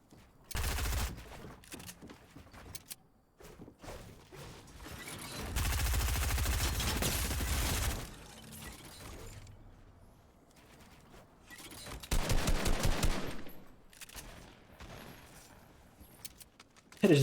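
Bursts of SMG gunfire in a Fortnite Battle Royale solo match played on an Xbox controller, with loud sustained firing runs around six to eight seconds and again near twelve seconds among scattered shots.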